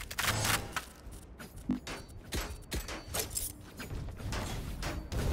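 Dense, busy audio from the video game Valorant on the map Icebox, with several sharp gunshot cracks and bursts scattered through continuous mechanical noise and rumble.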